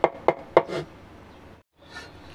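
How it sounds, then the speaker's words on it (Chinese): A cleaver smashes and chops garlic cloves into mince on a board: three crisp, evenly spaced thwacks, then a softer knock and faint rustling, close and fairly loud. "咁我哋就拍曬佢啦。 咁啊就盡量就剁到變成蒜蓉啦。"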